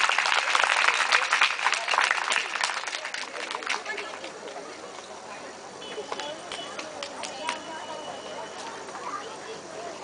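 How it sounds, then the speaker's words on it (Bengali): An audience claps for an uncle called up onto a stage at a church-linked family gathering, the applause dense and lively at first and then thinning, with chatter and voices mixed in throughout. "সবাই জোরে হাততালি দিই"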